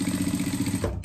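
Sewing machine stitching a seam on a bumerang-style pet harness, a rapid, even mechanical chatter close by that runs steadily and cuts off just before the end.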